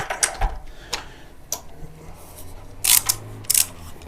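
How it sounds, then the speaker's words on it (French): A small ratchet wrench with a 10 mm socket clicks during motorcycle maintenance, a handful of sharp, close ticks spread irregularly, some in quick pairs, with a faint low hum underneath. "petit cliquet"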